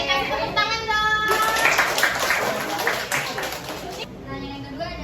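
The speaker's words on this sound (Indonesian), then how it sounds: "Kasih tepuk tangan dong." Children clap together at a Quran study class in Indonesia, a steady patter of small hands rising for a few seconds and tapering off, with kids' voices chattering over it throughout.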